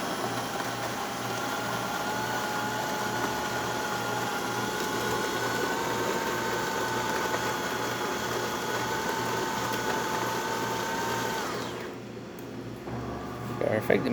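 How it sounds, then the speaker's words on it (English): A DeLonghi Prima espresso machine runs steadily through grinding and brewing, a continuous mechanical whine with a low pulsing hum that cuts off near the end, leaving a quieter mechanical sound. "The machine grinding some coffee is going into the brew unit."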